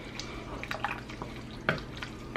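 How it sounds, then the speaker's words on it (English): Ingredients for a budget casserole are stirred together in a bowl, giving soft, quiet scraping and a few light clinks of the utensil against the container. "We're just gonna stir this all together, and then I'm gonna dump it into a casserole dish."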